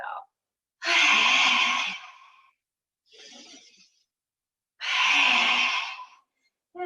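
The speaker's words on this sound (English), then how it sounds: "Take a big breath in and a lion's breath out." A forceful lion's breath exhale during a yoga session: two long, loud breathy whooshes a few seconds apart, with a softer breath between them, close to the mic.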